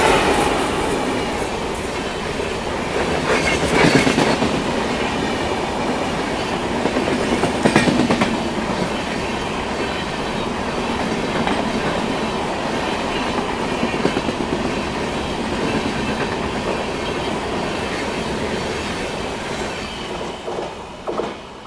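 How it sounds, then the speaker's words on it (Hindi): The Chennai Express from Thiruvananthapuram Central, hauled by a WP4 locomotive, rolls past loud and near, its steady rumble carrying rhythmic clickety-clack from the coaches, with brief metallic flanging bursts early on. "चलिए WP4 के साथ आ रही है आपकी तिरुवनंतपुरम सेंट्रल से चलकर MGR चेन्नई सेंट्रल को जाने वाली चेन्नई एक्सप्रेस"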